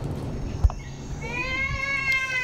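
A wild cat in the jungle gives one drawn-out, rising meow at close range, preceded by a brief thump and set against a low ambient rumble.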